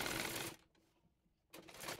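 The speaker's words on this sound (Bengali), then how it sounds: "তাই মেশিন দিয়ে সেলাইটি দিয়ে নিচ্ছি" A sewing machine runs a seam on a dress, a close, busy mechanical whirr that stops for about a second and then starts again.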